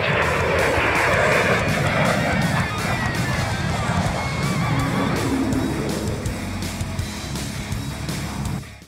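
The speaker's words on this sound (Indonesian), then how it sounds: "jet tempur bersenjata rudal Kinzhal mendarat di pangkalan angkatan laut di Kaliningrad" A MiG-31K fighter jet armed with a Kinzhal missile lands at a naval air base in Kaliningrad, a loud continuous roaring engine rumble with broadband hiss that stays strong throughout and fades slightly near the end.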